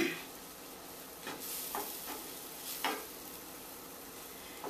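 Apple filling seasoned with cinnamon and allspice sizzles softly in a pan while a spoon stirs through it, with a few scraping strokes standing out over the low, steady frying hiss.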